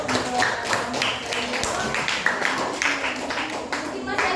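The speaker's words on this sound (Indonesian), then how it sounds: "kita berikan tepuk tangan dulu" A few scattered claps rise from a physics teacher-training class in an Indonesian classroom, sharp taps spaced through the clip under steady conversational talk.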